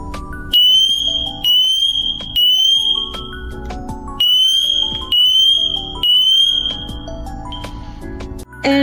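A SITERWELL GS509A smoke detector, magnet-mounted, sounds its test alarm: loud, piercing electronic beeps in a steady repeating pattern of three pulses with short gaps, close by and alone.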